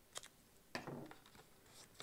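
Scissors cut down a piece of 3D foam, giving two quiet, crisp snips, the second followed by a brief rustle, in an otherwise quiet room.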